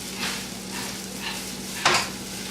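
Onions sizzle steadily in a hot pan, with a few scraping stirs and one sharper clatter near the end; no talking.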